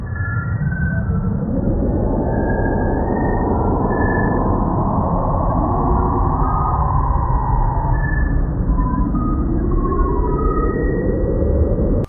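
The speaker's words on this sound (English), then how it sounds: "You can hear the gentle whoosh of stellar winds and the subtle vibrations of gas clouds being sculpted into new solar systems" A NASA sonification of the Pillars of Creation turns stellar winds into a dense, continuous whooshing drone with low rumble. Soft tonal warbles and drifting sweeps rise and fall through it, steady and loud with no talking.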